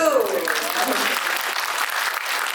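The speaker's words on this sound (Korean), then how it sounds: "박수!" Audience applause fills the room at a film talk event, steady and dense throughout, with a voice speaking briefly over the start before the clapping carries on alone.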